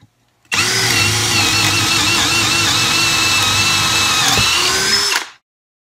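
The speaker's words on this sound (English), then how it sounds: "it drilled all the way through that 4x4 with no trouble whatsoever." DCK 20V cordless hammer drill boring through a 4x4 on its high setting, with a loud, close, high-pitched motor whine held steady for about five seconds before it cuts off abruptly.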